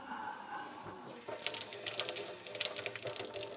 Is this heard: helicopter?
no